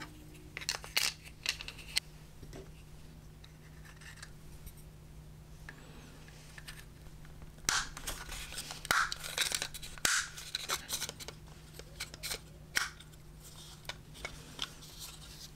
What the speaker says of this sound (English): I decided that the tube was a little bit too long, so I'm just going to go ahead and trim it down